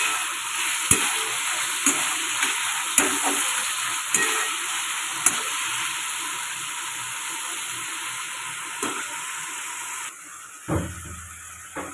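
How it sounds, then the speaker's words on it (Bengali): Capsicum frying in a pan for homemade veg momos, a steady hiss of sizzling oil with regular scraping stir strokes, close and continuous, ending in a quieter clatter. "ক্যাপসিকামগুলো একটু ভাজা ভাজা করে নেবো।"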